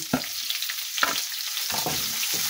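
Sliced onion frying in a pan with garlic for Filipino menudo, heard as a steady close sizzle with several bursts of stirring and scraping.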